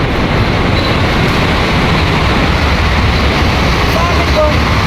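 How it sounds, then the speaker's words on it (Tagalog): A train rumbles past nearby, a loud, steady broadband roar filling the whole stretch, with people talking under the noise. "Daanan ng train."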